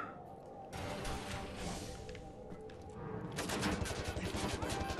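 Rapid bursts of automatic gunfire from a weapon in Wolfenstein: The New Order, a dense rattling barrage that swells louder in the second half, with light talk faintly underneath.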